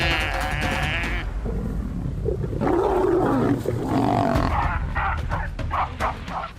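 Three lionesses roar and snarl while attacking a baby baboon on the savanna, producing loud, continuous, close growling roars with harsh rasping cries layered over them.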